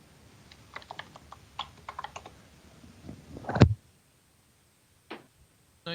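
Keys clatter on a computer keyboard in quick, irregular bursts, then a louder click or thump and two isolated taps after a pause, close and fairly quiet, with no voices.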